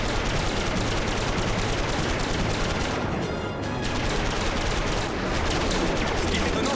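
Rapid gunfire from a fast aircraft in an animated series roars in dense, sustained bursts, loud and continuous, with two brief gaps between volleys.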